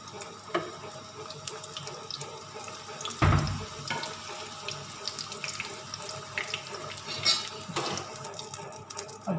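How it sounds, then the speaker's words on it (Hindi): Potato spring rolls and samosas frying in hot oil give a continuous crackling sizzle with scattered pops and one sharper burst, heard close and alone without speech. "अब इसको हम फ्राई करके दिखाते हैं।"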